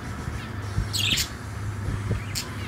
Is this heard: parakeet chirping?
yes